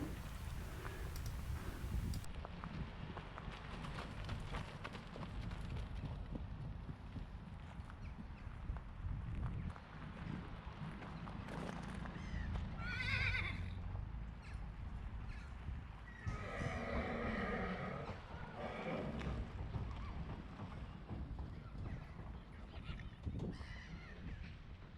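New Forest pony mares move about outdoors. A couple of whinnies ring out over a constant rumbling background, with scattered hoof and movement noises, all moderately distant.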